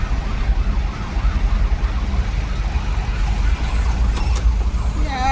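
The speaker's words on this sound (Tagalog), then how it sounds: "Ilan na yung ambulansya dumaan?" An ambulance siren wails along a Philippine expressway near a truck accident, loud and steady over continuous road and traffic rumble for the whole stretch.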